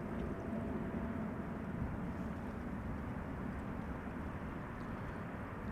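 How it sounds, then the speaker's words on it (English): Air Baltic A220 airliner taking off at Schiphol Airport, heard as a steady, broad, low jet roar that stays constant throughout, moderately distant, with no voices. "an airplane taking off, that would be an Air Baltic A220 going to Tallinn"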